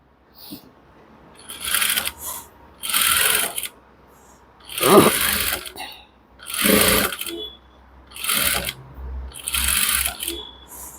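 A sewing machine stitches a garment neckline with black thread in repeated bursts of rapid whirring, about six runs separated by short pauses, loud and close with no talking.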